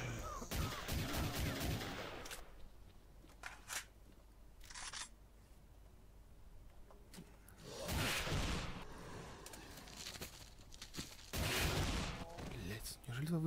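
Gunfire in a S.T.A.L.K.E.R. mod set in an underground metro area: sharp clustered bursts of shots at the start, again around the middle and near the end, separated by quieter stretches.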